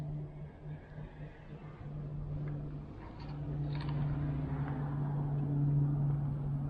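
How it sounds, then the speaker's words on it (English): A car passes on a dark rural road at night, a low engine rumble that swells gradually and grows louder toward the end, heard from a distance with no talking. "There was a car that just went by"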